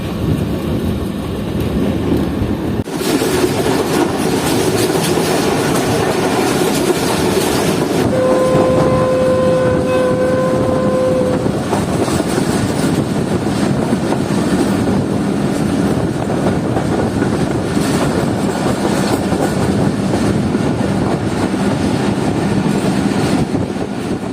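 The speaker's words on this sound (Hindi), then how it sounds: "तो तकरीबन 78 to 79 की स्पीड से ट्रेन ने एस्केप किया है बेगमाजी रेलवे स्टेशन को" Fareed Express passenger train running at speed near Begmanji railway station, a steady loud roar of wheels and rattling carriages with a sustained horn tone sounding partway through, continuous throughout.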